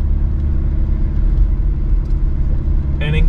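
A Mitsubishi Pajero Sport's engine labours steadily while towing a roughly 3000 kg boat up a steep mountain road, a low continuous drone and road rumble with a brief voice near the end.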